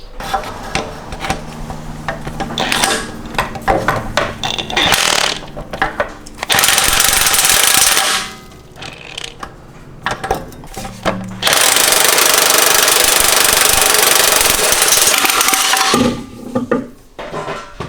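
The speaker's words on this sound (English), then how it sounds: "I've got the big impact gun, and I'm going to see if I can get it off." A big impact gun hammers at a stuck bolt under a BMW E30 with M40B16 engine, loud close bursts of rattling, first short stuttering blasts, then two long sustained runs with brief pauses between.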